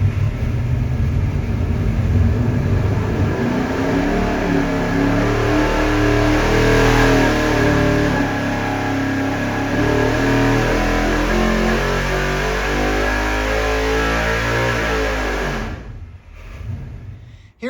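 A V8 race engine on a dyno revs hard and climbs through its range, loud and close, with a steady stepped rise in pitch before the run winds down and fades at the end.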